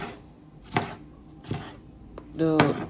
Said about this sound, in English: So I'll cut up bell peppers, I'll cut up 1 onion